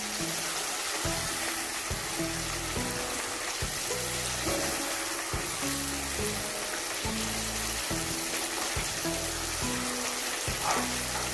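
Mutton karahi being fried in a pan during bhunai, a steady dense sizzle with rhythmic scraping or stirring strokes repeating every second or so, close and continuous with no talk.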